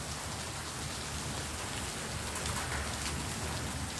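Rain mixed with hail falls in Lebanon, a dense, constant patter and hiss with no pauses and no voices.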